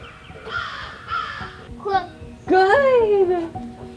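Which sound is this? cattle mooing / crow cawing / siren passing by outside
crow cawing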